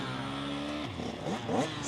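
Motocross motorcycle at the start gate, engine held at a steady rev, then dipping and blipping up in short bursts as the clutch is let out, moderately distant.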